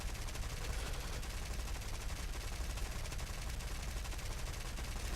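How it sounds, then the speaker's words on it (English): The rear machine guns of a Blenheim bomber in the War Thunder game fire in continuous, dense rattling bursts, loud and unbroken across the whole stretch with no voices. "we switch to rear gunners to try and ward him off at least"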